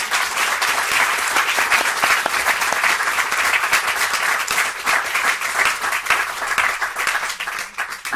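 Audience applause closing a conference talk on mission-driven companies, a long, even wash of many hands clapping together, steady and moderately loud throughout with no talk.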